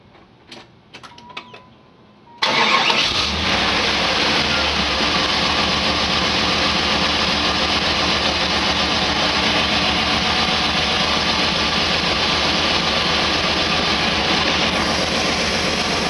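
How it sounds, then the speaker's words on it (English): A car with an LT1 small-block engine cranks and fires, then settles into a steady, loud, close idle that continues unbroken, with a few faint clicks before the start. "Now I'm going to start up the car and see what the coolant level's at."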